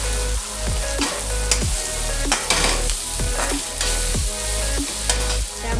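Chopped tomatoes and turmeric fry in a pan for veg pulao, a close sizzle under repeated rhythmic scrapes and knocks of a spoon stirring.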